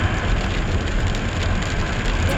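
Steady rain drums on a car moving along a road at night in Chicago, a dense, even wash of sound with a low rumble underneath and no voices.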